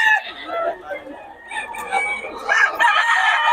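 Chickens and roosters at a market in Bocaue, with roosters crowing and clucking steadily throughout amid a busy, noisy crowd, the calls close and loud and rising near the end.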